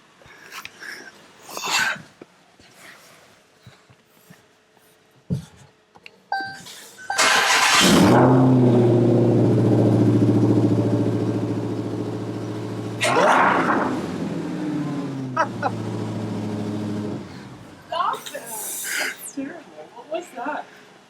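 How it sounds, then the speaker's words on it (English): A rebuilt 2018 Dodge Challenger Hellcat Widebody's engine cranks, catches and roars to life, revving loudly for several seconds before settling, with people talking before and after. "That's the engine."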